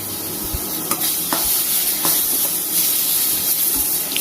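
Onion and tomato sauté in a pan for a drumstick-leaf soup, a close steady hissing sizzle with occasional light scrapes from stirring and no talking.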